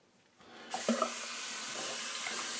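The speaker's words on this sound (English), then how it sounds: "I had to do a little bit of rinsing there" A bathroom tap is turned on and runs steadily to rinse a razor, the splash rising quickly to a constant near hiss with a few faint clinks at the start.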